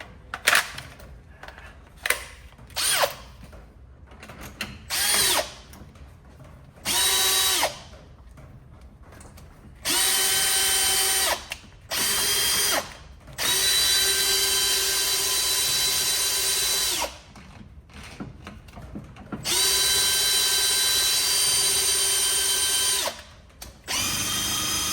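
Cordless drill driving a winch wire puller, whirring in repeated bursts of varying length with stiff, freshly greased mechanism, separated by short pauses and clicks; close and fairly loud, no talk.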